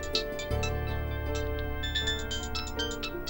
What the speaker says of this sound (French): Y a ton téléphone qui sonne.